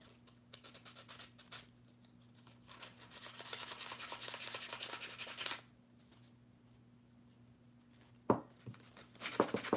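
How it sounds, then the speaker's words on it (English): A silk flower pot being rubbed with sandpaper, heard as steady, close scratchy rasping in long strokes with a brief pause partway and a few sharper knocks near the end. "when you use sandpaper, it's kind of a workout"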